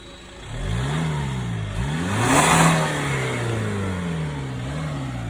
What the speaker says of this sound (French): Ouais, le clac-clac du diesel, malheureusement.